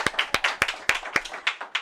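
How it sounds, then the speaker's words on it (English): An audience gives a short round of applause at an evening talk by an Illinois state representative, with crisp, closely spaced hand claps heard nearby and no one speaking. "Y'all clap for Aaron."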